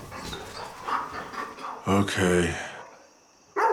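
A dog pants and whimpers indoors in breathy, rhythmic bursts at close range, with a brief voiced whine, mixed with a person speaking.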